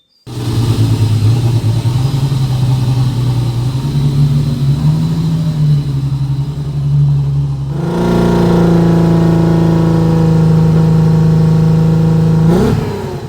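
A Holden Commodore race car engine idles steadily with a misfire, then the revs rise and hold around the eighth second before dropping back, loud and close with no talking.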